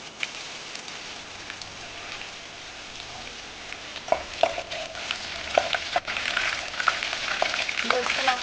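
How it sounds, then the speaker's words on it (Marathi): Garlic, curry leaves and cumin frying in oil for dal, a continuous crackling sizzle with scattered sharper pops growing more frequent toward the end, close and unaccompanied by voices. "लसूण आपल्याला लालसर होईपर्यंत परतून घ्यायचं आहे."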